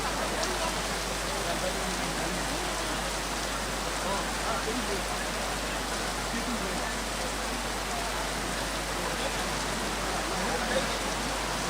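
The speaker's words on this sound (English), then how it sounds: "the rain has come." Steady rain falls outdoors at a state memorial service, a dense, even hiss of drops on surfaces that continues without pause, with a low hum underneath and faint voices present.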